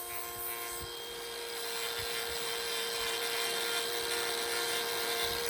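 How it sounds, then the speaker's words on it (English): Angle grinder thinning the overgrown horn of a cow's badly neglected hoof, a steady high-pitched whine with broadband grinding hiss holding level and close for several seconds. "now that we've thinned it out with the grinder"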